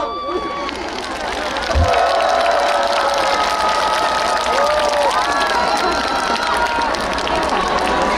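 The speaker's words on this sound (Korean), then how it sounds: "박수 많이 주세요" An audience at an outdoor stage show during the Mapo Naru salted shrimp festival applauds and cheers in a steady sustained wash of clapping and crowd noise, with a voice over a microphone on top.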